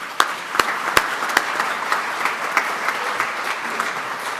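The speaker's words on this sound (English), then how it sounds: "Let's give them a round of applause." Members at a Rotary club meeting applaud, a dense burst of clapping from a room full of people with a few loud close claps at the start, steady and then slightly easing.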